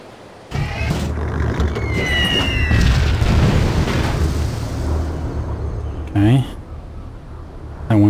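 Bomber airstrike in Civilization V: a heavy rumbling blast builds and sustains for several seconds with whistling tones, followed by a short sharp burst near the end, with someone talking faintly through it.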